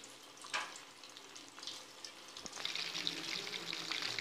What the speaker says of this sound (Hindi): अब हम तमाम पीसेस को ऑयल में डालते हैं।